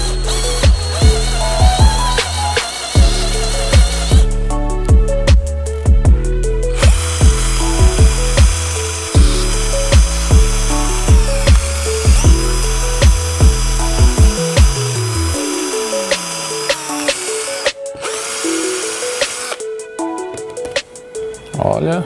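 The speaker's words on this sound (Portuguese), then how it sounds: "Para polir o plástico, segundo o fabricante, nós vamos usar a pasta branca e a boina de algodão cru." A power drill spins a raw cotton buffing wheel with white polishing paste against plastic, giving a loud, close, continuous whine with repeated rhythmic pulses and shifting pitch as pressure changes.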